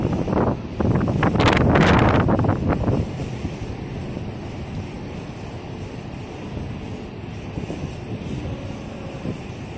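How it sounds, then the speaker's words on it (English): Strong wind buffets the microphone with loud rumbling gusts at first, then settles into a steady, softer rushing roar. "It's really windy today."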